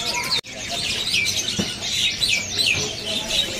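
A cucak kombo bird in a bird shop gives repeated bright chirps and short whistled calls, close and fairly loud against a busy background.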